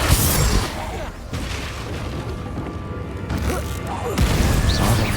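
Spell blasts in the Hogwarts Legacy video game land as heavy booming explosions and crashing impacts during combat, several loud bursts over a rumbling background, with a voice shouting incantations between hits.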